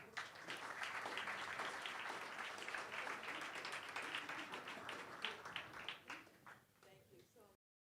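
A hall audience applauds an honorary doctorate at Universidad Nacional de San Martín; dense, sustained clapping fills the room for about seven seconds, then thins into scattered claps and stops.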